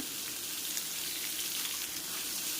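Pumpkin and potato fry in oil tempered with cumin, dried chilli and bay leaf, producing a soft, continuous sizzle that stays faint and even, with no talking.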